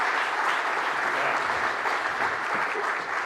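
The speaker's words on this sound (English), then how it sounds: "Please give a warm round of applause for our panel" An audience gives a warm, steady round of applause for an economic discussion panel, dense continuous clapping that fills the whole short stretch.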